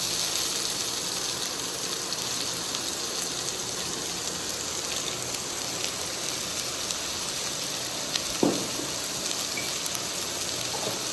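Finely chopped onions, added after cardamom and other spices, frying in a pan for chicken macaroni, a steady hissing sizzle with scattered pops and one sharper clatter near the end, no talking.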